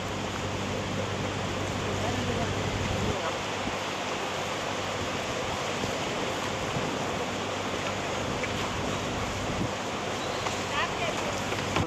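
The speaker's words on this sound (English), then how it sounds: "another boat is approaching us." A charter boat approaching on a canal, heard as a steady broad wash of engine and water noise with wind rumble against the microphone, constant and unbroken throughout.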